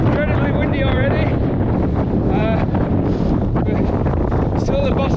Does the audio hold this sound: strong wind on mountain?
yes